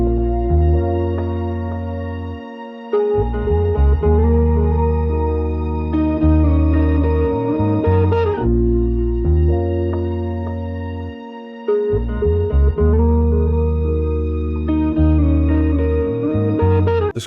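Melodic loop processed with a thin telephone-style EQ, RC20 saturation and Valhalla reverb: warm chords and a lead line over a low bass, with brief dropouts and washy echo tails, loud and continuous with no voices.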